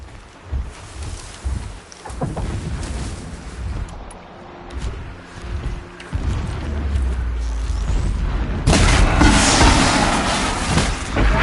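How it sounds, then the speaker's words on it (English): Distant explosions in the game Horizon Zero Dawn rumble and boom irregularly, building into a louder, sustained roar of blasts and debris near the end. "Explosions in the distance."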